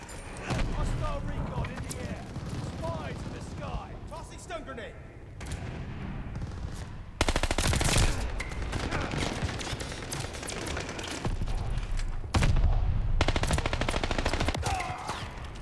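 Rapid automatic gunfire from an online first-person shooter, loud bursts of machine-gun fire alternating with single shots and thuds, with players talking excitedly over the action throughout.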